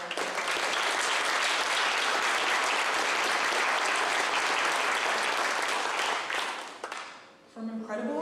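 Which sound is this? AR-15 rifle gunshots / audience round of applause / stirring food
audience round of applause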